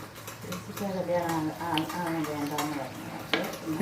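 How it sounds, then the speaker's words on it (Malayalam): A spoon scrapes and clinks around a pan as a green chilli curry is stirred, while a person talks over the kitchen sounds. "നന്നായിട്ടൊന്ന് ഇളക്കി ഇതിനിയൊന്ന് തിളച്ചു വരണം"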